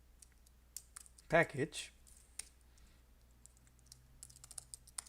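A few scattered computer keyboard clicks and key taps while writing R package code, faint and close, with a brief spoken word partway through.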